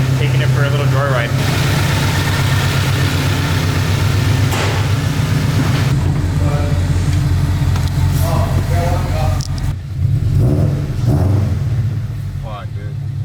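A Toyota GT86 drives with a steady low engine drone that rises and falls as it moves through the gears, loud and close inside the car, with people talking over it.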